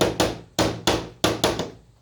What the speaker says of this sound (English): get our little